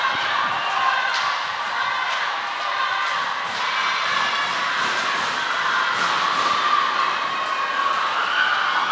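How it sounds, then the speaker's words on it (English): A roller derby crowd cheering and shouting on and off over a steady arena din, a broad wash of voices with sharper bursts of yells throughout. "Listen to that crowd. Cheering on the jammers, cheering on the blockers."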